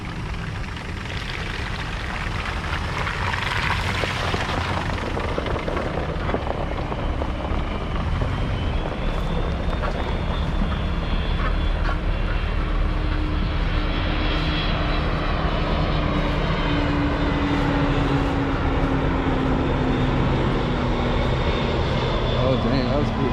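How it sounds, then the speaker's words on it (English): A lifted Jeep Grand Cherokee on a dirt trail, its engine roaring steadily and loudly up close as it drives through a mud puddle, with a voice talking over the drone. "We're gonna hit this mud puddle up real quick."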